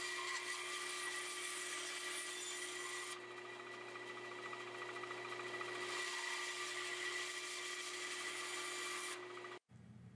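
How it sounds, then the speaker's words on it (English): A bandsaw runs steadily while cutting the corners off a wooden turning blank for an elk call. The loud continuous whine shifts in tone as each cut is made, then drops off abruptly near the end. "I cut the corners off the blank at the bandsaw"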